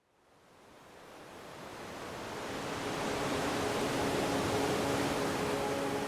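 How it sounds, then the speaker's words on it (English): Ocean waves swell into a broad, steady wash of surf, rising from quiet to a full, continuous roar that holds for several seconds, with no voices. "the sound of the waves"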